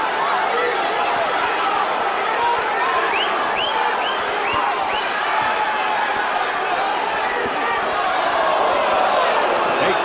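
A packed arena crowd at the Corrales–Castillo boxing match keeps up a constant roar, with cheers and shouts swelling over an unbroken murmur and brief whistles cutting through.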